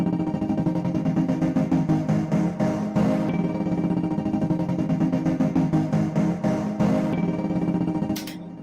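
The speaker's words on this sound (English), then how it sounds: "And this is basically a pad sound" A sustained synth pad in Renoise has its volume driven by an LFO, giving a steady rapid rhythmic pulsing throughout at a loud level before it fades out near the end.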